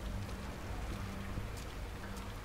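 Steady rain falls in the horror video game The Evil Within, a dense, even hiss of drops with a low rumbling undertone, continuous and fairly close throughout.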